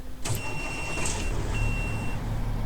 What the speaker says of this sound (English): the engine will sound the same, but it sounds really good compared to the stock engine sounds